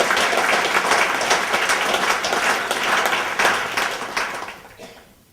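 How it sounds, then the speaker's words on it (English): Audience applause at an evening celebration honoring volunteers and farm families: a dense, steady wash of clapping from a large crowd that thins and fades out over the last second. "Let's give them a round of applause."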